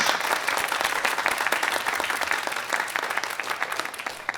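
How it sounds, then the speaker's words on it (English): Sustained crowd applause at a spiritual gathering, dense steady clapping from many hands filling the whole stretch at moderate level without pause. "Bravo. Applause to them."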